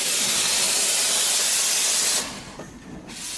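A steam engine from the early Industrial Revolution hisses in a loud, steady rush that cuts off abruptly near the end, followed by a quieter lull, then resumes briefly.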